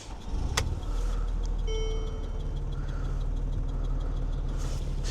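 A V6 car engine of 107 kW cranks with a sharp click and catches, then settles into a steady, close low idle with a faint whine running over it, and no voices.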